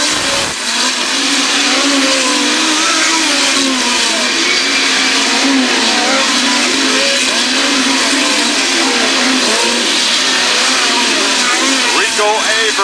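Power I midget race cars at US 36 Raceway howl past in a pack, a loud continuous high-revving engine drone that rises and falls, with an announcer talking over it throughout.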